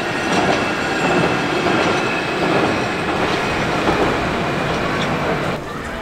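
A small tourist train rolls past with a continuous rumbling clatter of wheels on track, fairly close and steady before easing off near the end.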